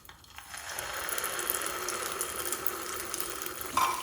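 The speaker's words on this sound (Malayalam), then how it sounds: "നമുക്ക് മാവ് ഇതിലേക്ക് ഒഴിച്ചു കൊടുക്കാം." Broken wheat batter for neyyappam hits hot oil and sets off a steady, close sizzling hiss that rises quickly and keeps bubbling, with no voices.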